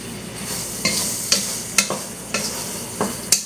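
Meat frying in a pan on a home stove while chile cooks nearby, with a steady sizzle punctuated by about six sharp scraping stirs at regular intervals.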